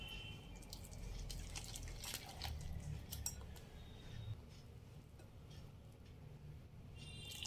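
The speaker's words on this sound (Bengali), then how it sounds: "এবার অল্প অল্প করে জল দিয়ে ব্যাটার বানাতে হবে।" Water trickles and drips in small additions into a bowl of gram flour batter for boondi, a faint wet pouring and dripping under steady low background hum, with no speech.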